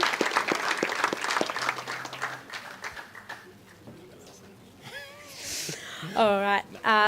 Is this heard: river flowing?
no